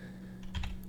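Brief burst of a few soft keystrokes on a computer keyboard while code is being written, quiet and close over a steady low hum.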